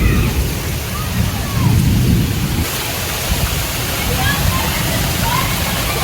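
Heavy rain pours down outdoors at a New York summer camp, a loud, dense, continuous roar that fills the whole stretch without letting up.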